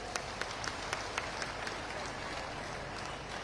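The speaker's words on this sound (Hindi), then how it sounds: "जिसको मोदी जी का धन्यवाद करने जरा जोर से ताली बजा दे।" Audience at a political rally in India clapping, a faint, distant patter of applause with a few sharper claps standing out.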